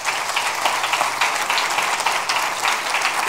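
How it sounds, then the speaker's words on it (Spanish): A church congregation at Iglesia Puertas Abiertas applauds during a sermon, giving a full, continuous burst of many hands clapping at a fairly loud, even level throughout, with no voices over it. "Denle un aplauso al Rey bendito."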